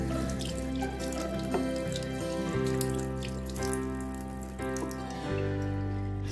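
Plaster of Paris mini sculpture faces being washed in water, a steady running-tap splash with drips and small sloshing sounds, continuous and close.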